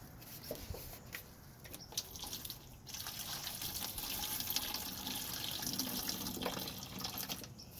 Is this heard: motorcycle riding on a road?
no